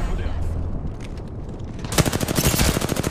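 Gunfire in a video game shootout: quieter scattered shots at first, then a loud rapid burst of automatic fire in the last second, fast crisp repeating cracks.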